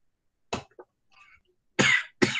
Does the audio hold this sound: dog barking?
no